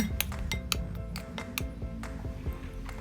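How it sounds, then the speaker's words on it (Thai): Dry batter ingredients with pepper and salt being stirred in a bowl for frying sausage balls, producing quick irregular clinks and scrapes of a utensil against the bowl. "คลุกเคล้าส่วนผสมให้เข้ากันนะคะ"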